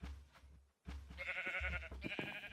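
Sheep bleating in a video game, several overlapping wavering bleats in quick succession, fairly loud against a steady game background.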